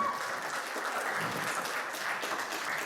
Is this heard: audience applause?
yes